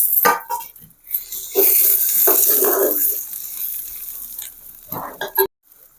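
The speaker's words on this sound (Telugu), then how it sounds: "సన్నగా కట్ చేసి పెట్టుకున్న టమాటా ముక్కలు వేసుకుందాం." Sliced tomato pieces drop into a hot pan for a Telugu village-style prawn and egg curry, setting off loud, close sizzling and frying with bursts of stirring that ease off, then a last short flare before a sudden cut.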